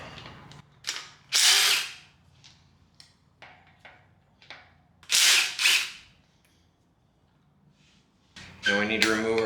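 A power drill or impact tool runs in two loud, bursting pulls on the cam bolts of an LS engine, separated by clicks and faint handling noises, with a brief voice at the end.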